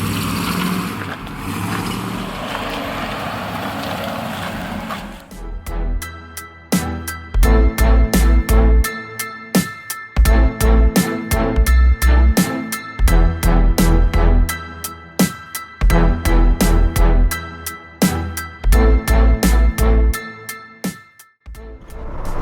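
A 1965 Chevrolet Impala on a test drive: after a steady engine rumble, a series of loud rhythmic clunks and thumps recur close by, as from the car's cabin over the road.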